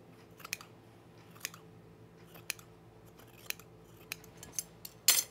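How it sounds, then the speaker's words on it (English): Sharp scissors snip loose threads on sewn chino pants, about eight quick, crisp cuts spaced roughly a second apart, close and clear against a quiet room, ending in a brief cluster of snips. "Trim the threads."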